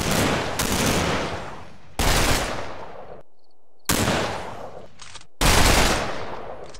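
Machine gun fire in the World War II game Combat Mission during the Market Garden campaign, several long loud bursts of rapid shots separated by short pauses, each trailing off with echo, with no talking.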